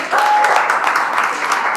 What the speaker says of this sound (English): Let's give her a good round of applause.